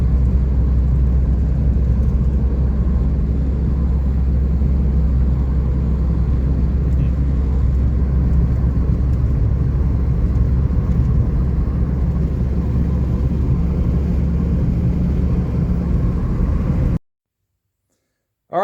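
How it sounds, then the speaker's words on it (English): A Ford Five Hundred engine idling steadily after a fuel pump replacement, a constant close low rumble with no voices, cutting off near the end. "The car's running really well."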